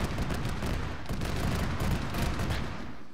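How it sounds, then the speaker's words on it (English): Cannon fire in a military video game operation roars as a dense, continuous barrage of booming blasts, loud and unbroken, without talk. "Was that friendly cannon fire?"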